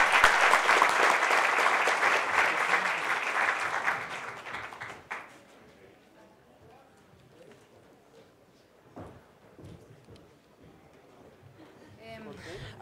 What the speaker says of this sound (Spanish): gustaría sugerir una ronda de aplausos para ellos